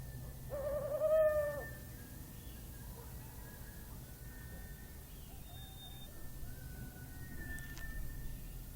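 An owl hoots in a forest where a pair of owls is raising a chick, a short rising call early on followed by faint quieter calls over a steady low woodland hum.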